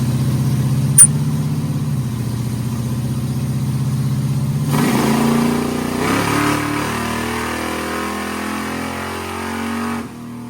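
An engine over forty years old revs hard on nitrous, a loud sustained roar that climbs in pitch, surges midway, then drops and cuts off near the end, with no talk over it.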